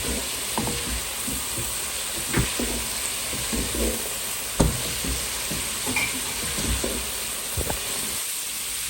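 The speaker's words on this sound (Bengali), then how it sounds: "তো পেঁপে ভাজিটা বসিয়ে দিয়েছি, আর এই যে কিছু কাঁচামরিচ দিয়ে দিলাম।" Papaya bhaji frying in a pan with green chillies added, a continuous close sizzle and hiss broken by stirring scrapes and a few louder knocks.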